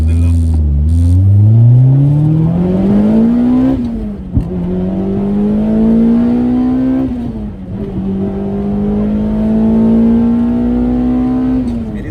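A car powered by a Toyota 2ZZ-GE engine is driven hard from inside, climbing through rising revs, dropping at gear changes and pulling up again, loud and close.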